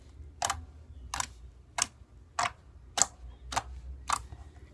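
Glossy blue slime being squeezed and stretched, giving off seven sharp, evenly spaced clicks about every 0.6 seconds, close and crisp over a low background hum, with no talking.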